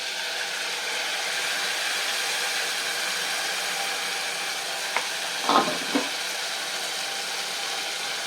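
Ground tomato paste is frying with brinjal in a pan for a traditional Tamil brinjal dish, giving a steady, even sizzle throughout with a few brief stirring scrapes near the end and no talking.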